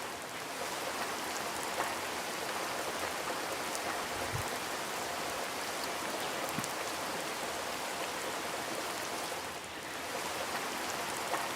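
Steady heavy rain pouring down in northern Laos during flash flooding, a dense continuous hiss of water on surfaces with no break for the whole stretch.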